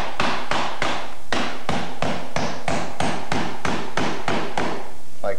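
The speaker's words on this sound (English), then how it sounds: "anchor the casing a little better than that by putting in a couple larger nails into the header piece that runs across the top" Larger nails are hammered into the header piece of trim casing: a loud, close run of about a dozen sharp, evenly spaced hammer blows, with no talking.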